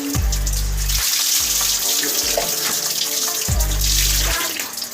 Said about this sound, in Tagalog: Massage pa din pagka nagbabanlaw pa.